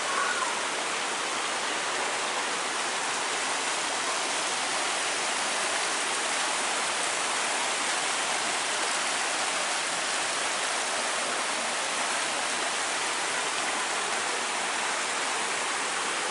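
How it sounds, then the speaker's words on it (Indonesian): Two rivers meeting near rice fields in a village in Sragen, a loud continuous broadband rush of flowing water with no talking. "Ada dua sungai yang bertemu di ini."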